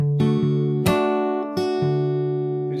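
Fingerstyle acoustic guitar playing a short melody, three or four plucked notes ringing clearly with sustained harmonics, played alone.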